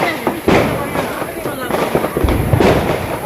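Firecrackers crackle and burst in rapid, loud pops during Diwali, several sharp bangs in a row, with people's voices mixed in close by.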